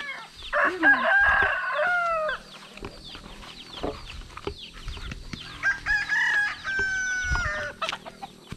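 Chickens cluck and a rooster crows twice, fairly close, with scattered farmyard noises between the calls on a farm.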